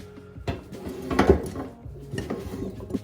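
An air fryer basket filled with a sausage one-pot meal slides into the fryer, a close plastic rattle ending in a firm clunk as it seats, followed by a few lighter knocks.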